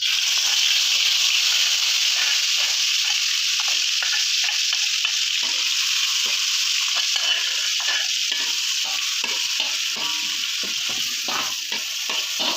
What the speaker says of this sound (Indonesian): Nah teman-teman, ini minyak gorengnya udah panas ya, tinggal kita masukkan bumbunya.